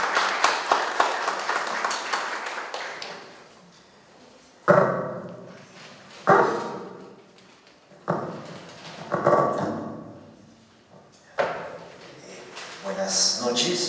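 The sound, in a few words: audience applause welcoming a conference speaker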